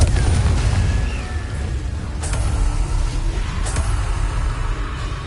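A Confringo blasting spell explodes in Hogwarts Legacy on PS5: a loud, dense rumbling boom with heavy low-end energy and brief bursting flares, continuing throughout without speech.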